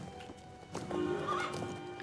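Horse hoofbeats and a whinny from the Star Stable video game: steady clip-clop footfalls, then a clear, fairly loud neigh over a soft game backdrop.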